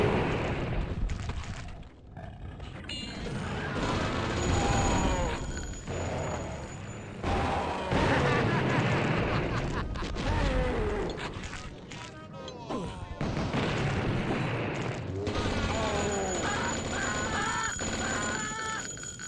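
In the shooter game Blood, akimbo napalm launchers fire repeatedly, loud booming blasts and crackling fiery bursts overlapping with game noise throughout, with occasional talk over it.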